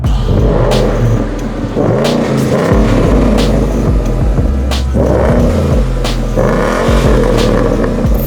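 An MG sports car engine with a motorsport exhaust revs hard and repeatedly, the loud raspy exhaust rising and dropping through several sharp blips and sustained roars.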